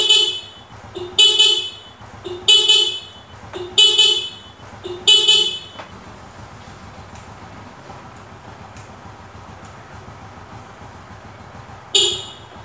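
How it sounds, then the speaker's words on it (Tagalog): Car horn wired to sound with the high-beam flash, giving five short honks in a quick series. After a pause with only a low engine idle, one more honk comes near the end. "tutunog yung busina ninyo pag naka-high beam ka"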